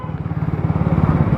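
A Bajaj Pulsar NS 160 motorcycle pulling away, its engine giving a steady throbbing putter at close range for a brief moment, with no voices.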